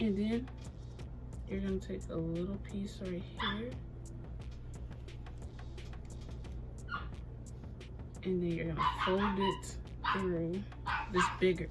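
Dog named Max barking repeatedly at someone at the door, loud yips and bow-wows in bursts, pausing midway then resuming, mixed with someone talking over the noise.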